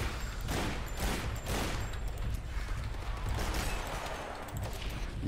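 Burst rifle fire in the dinosaur shooter game Primal Carnage Extinction, rapid loud clustered shots repeating densely and alone throughout, with harsh mechanical clatter between volleys.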